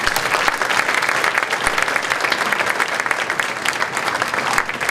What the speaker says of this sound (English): So give your board members a round of applause for that.